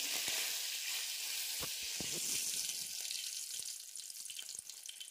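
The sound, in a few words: cumin and curry leaves sizzling in hot oil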